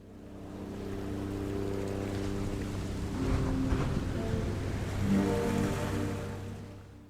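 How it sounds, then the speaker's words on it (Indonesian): Calm ocean waves on the beach at Positano, a soft rolling wash that swells and ebbs over several seconds above a steady low hum, with no voices. "makan malam dengan latar suara ombak yang tenang"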